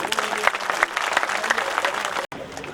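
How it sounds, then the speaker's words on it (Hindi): A crowd at a Himachal Pradesh political rally in Gagret applauds to welcome Chief Minister Jai Ram Thakur, with steady dense clapping for over two seconds before a sudden brief cutoff, then the clapping resumes. "तालियों में कमी नहीं आनी चाहिए"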